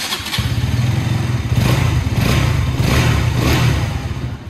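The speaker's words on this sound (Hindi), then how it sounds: "सुनाता हूँ कि एग्जॉस्ट साउंड जो है इसकी कैसी रहने वाली है।" A KTM RC 200 sport bike in metallic grey is revved while parked, its exhaust rising from idle into repeated loud blips and sustained revs, close and alone with no voices.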